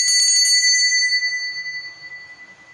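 A single bright bell strike rings out clearly, its metallic tone lingering and slowly fading into silence.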